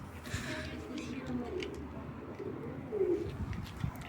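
Pigeons cooing softly in a few low, rounded calls against a steady outdoor background beside a coop, with young birds nearby.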